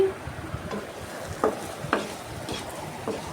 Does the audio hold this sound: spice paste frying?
yes